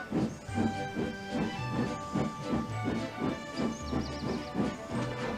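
Skarloey, a small narrow-gauge steam engine, chuffs along in a steady rhythmic beat, each puff carrying a soft hiss of steam, with a faint melodic tune underneath.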